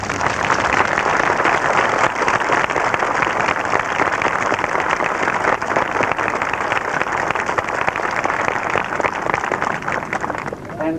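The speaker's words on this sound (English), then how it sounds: "Please put your hands together and give a great round of applause" An outdoor audience at a lighthouse park opening gives sustained applause, a dense rain-like patter of many hands clapping, steady and fairly loud, tapering off only at the very end.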